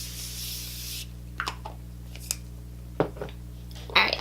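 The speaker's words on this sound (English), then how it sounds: "I'm going to use the Morphe Continuous Setting Mist to set the face really quick." Morphe Continuous Setting Mist sprayed onto a made-up face: one close, soft hiss lasting about a second, followed by a few faint clicks and rustles.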